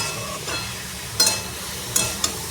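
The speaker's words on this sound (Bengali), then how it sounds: "এখানে আমি গাজরটা ভালো করে ঘিয়েতে ভেজে নিচ্ছি" Grated carrot frying in ghee with cardamom in a pan, a soft continuous sizzle broken by a few sharp scraping stirs and clinks near the end, close and fairly loud with no talking.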